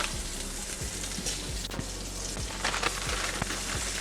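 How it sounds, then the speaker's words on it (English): Broccoli pieces sizzle in an oiled pan for a chicken stir fry, a dense steady frying hiss with repeated light clacks of a utensil tossing them, close and continuous, no talking. "So we're gonna take this, throw it into the pan."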